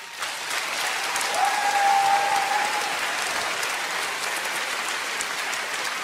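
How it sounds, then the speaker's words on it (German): Studio audience applauding a performer on a Swiss televised talent show, a broad, even roar of many hands clapping at once, swelling slightly then holding steady with no voices on top. "Von mir einen grossen Applaus für eine gute Leistung."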